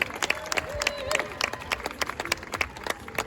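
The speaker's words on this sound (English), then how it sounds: "a bigger round of applause to INEOS Britannia's Neil and Ryan." Steady audience applause at an America's Cup 2024 team interview in Barcelona, many hands clapping in a dense, continuous patter with a few sharper claps standing out.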